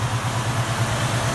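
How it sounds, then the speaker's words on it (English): A 1972 Chevy C10 pickup with a 350 small-block V8 and Rochester carburetor idles smoothly, a steady low rhythmic burble loud and close throughout, with no talk. "Right now with that Rochester, it idles smooth"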